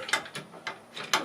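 Ratchet tightening the bolts on a trailer tongue jack during an RV power tongue jack install, heard as four separate bursts of quick metallic clicking spread over a second, close and fairly quiet, with no talking.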